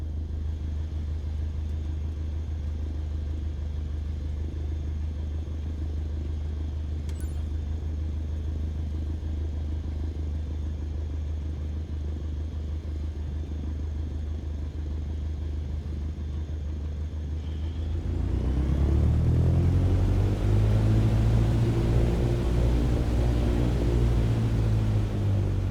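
Cessna taxiing in Microsoft Flight Simulator, with a steady low engine rumble that swells louder near the end as the propeller note rises and wavers. No voices.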